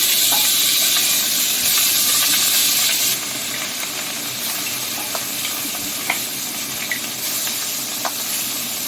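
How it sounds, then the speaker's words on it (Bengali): Pieces of rohu fish fry in hot oil for a mustard and poppy seed curry, giving a broad, continuous sizzling hiss that softens slightly partway through, with occasional small pops. "একইভাবে পরের মাছগুলো ভেজে নিচ্ছি।"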